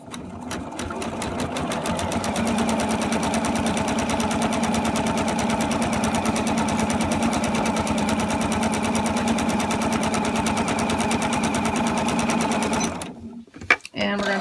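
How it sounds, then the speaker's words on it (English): A sewing machine fitted with a walking foot stitches through quilted fabric and batting for a charm-square tote, running in a steady, fast, even chatter for most of the stretch, then briefly stopping near the end with a couple of soft clunks. "how well a walking foot can just really smoothly run this through without having all this fabric bunch up"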